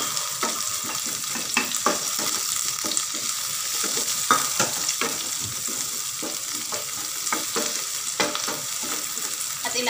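Onions fry and sizzle steadily in a pan with continuous crackle, while a spoon stirs and scrapes repeatedly, close and moderately loud.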